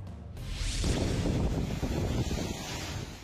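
Loud, roaring typhoon wind buffeting the microphone with a constant rushing wash of driving rain, sustained and heavy throughout, during Typhoon Paolo in Aurora and Isabela, Philippines.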